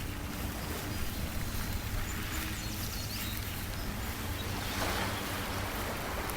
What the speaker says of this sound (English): And then maybe a little bit of the ocean.